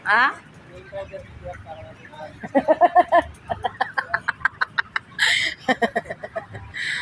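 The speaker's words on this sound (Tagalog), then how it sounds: "So, ayan ang dami manok" Chickens cluck in quick bursts, close by inside a building, with a person talking over them.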